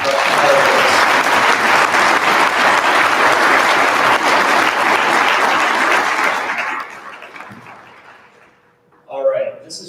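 An auditorium audience claps steadily for Dr. Reyes, dense and loud for about six seconds before tapering off, then a voice speaks.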